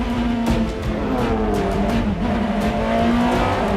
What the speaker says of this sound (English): Mario races a 2002 BMW M3